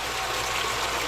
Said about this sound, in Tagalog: Nag-on na yung pump namin, day.